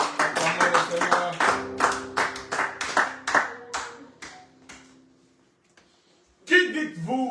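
A church congregation claps in a steady rhythmic beat, with voices and acclamations over the claps, then a brief pause before voices rise again.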